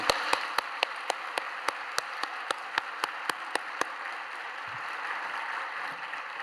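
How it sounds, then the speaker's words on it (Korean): Church congregation applauding in thanks for Deaconess Shin Hye-ra at a new year prayer meeting, a soft bed of clapping behind a run of evenly spaced, sharp louder claps that stop partway, leaving quieter applause. "신혜라 집사님께 다시 한번 감사의 박수를 드리시겠습니다"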